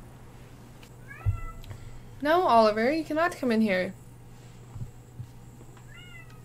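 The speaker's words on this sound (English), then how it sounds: "Damn cats, man." A house cat meows several times in a quick, loud, whining series close by, with softer chirps before and after, while a person speaks in the room.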